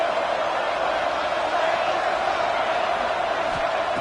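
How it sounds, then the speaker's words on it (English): Steady roar of a stadium crowd in a college football video game, a broad continuous wash of noise building behind the play as the defense faces a red zone stand. "The noise. This crowd is trying to inspire this defense to make a big red zone stop."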